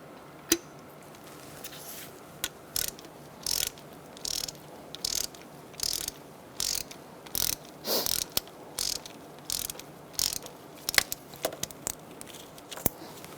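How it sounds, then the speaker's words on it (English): A ratchet fitted with a 5/8 spark plug socket works a spark plug out of a 2004-2009 Mazda 3 engine, giving repeated short clicking bursts in an uneven rhythm, close and clear, with brief pauses between strokes. "Using a 5/8 spark plug socket, I'm going to remove our spark plug."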